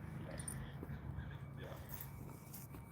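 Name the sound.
dog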